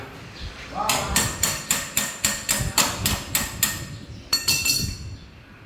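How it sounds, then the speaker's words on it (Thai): A shaft is hammered out during repair of a tire changer machine: about a dozen evenly spaced, ringing metallic blows, a short pause, then a quicker burst of several more close strikes. "ตอกแกนออกมา"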